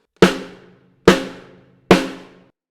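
Three bright, ringing snare drum hits with no dampening pad, evenly spaced and close, each with a long open buzzy decay.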